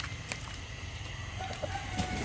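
A gamecock stag crows amid farmyard clucking from other fowl, a steady layered rooster call over constant low background noise, no talking.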